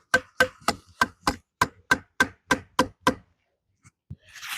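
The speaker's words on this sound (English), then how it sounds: "stick your knife in the tree" A knife is driven into a tree trunk in freezing wet weather: about a dozen sharp, evenly spaced woody strikes land close by, then a pause with a couple of softer knocks and a brief rustle.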